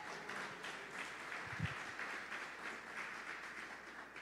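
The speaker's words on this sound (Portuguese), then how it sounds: "Você pode aplaudir ao Senhor pela sua palavra." A church congregation applauding, a dense, steady patter of many hands clapping heard from a distance in a reverberant hall, with a brief low thump partway through.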